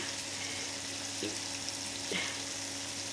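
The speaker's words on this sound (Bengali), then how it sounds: "এই তো আমি কাঁকড়া বোনা করতেছি" Crab being fried in a pan with onion and garlic gives a continuous soft sizzle close by, with a couple of faint stirring scrapes partway through.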